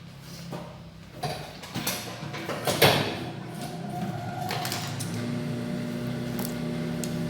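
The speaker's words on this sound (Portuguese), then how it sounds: "E agora a gente costura, né? Costura a volta toda." A sewing machine stitches around a zipper piece, its mechanical whir and clicks rising in short bursts before settling into a steady running hum, close and alone with no talking.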